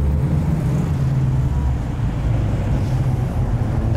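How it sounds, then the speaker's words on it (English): A Dodge Hellcat rolls slowly into a crowded cars-and-coffee meet, its engine a steady low burble beneath broad wind-like noise, constant and moderately loud throughout. "The Hellcat's sneaking in."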